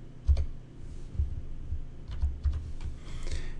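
Computer keyboard typing into medical records software comes as several soft, close key taps over a low background hum.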